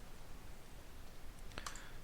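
A mouse click on a Next button in an Australian eVisitor visa application form: a few faint, quick clicks late in the clip over a quiet room hiss.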